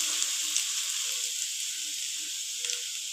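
Grated carrots fry in hot ghee in a kadai for carrot halwa, giving a constant bright sizzle close up, with a few soft stirring scrapes underneath and no talking.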